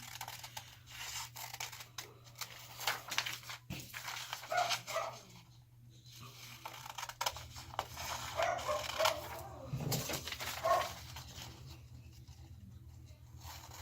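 Small dachshunds bark and yip from downstairs, muffled and moderately distant, in scattered bursts over a steady low indoor hum, with some handling noise nearby.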